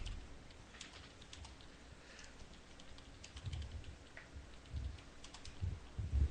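Quiet clicking of keys on a computer keyboard, a soft, irregular patter of keystrokes heard on its own at low volume, with a few slightly louder taps toward the end.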